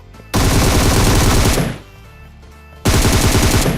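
Automatic gunfire in the PUBG video game as a player shoots an enemy: two loud, sustained bursts of rapid shots separated by a short pause.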